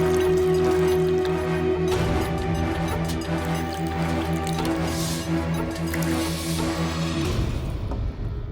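Liquor being poured into a glass to make a drink at home, a steady liquid fill that runs for several seconds under background music, ending abruptly.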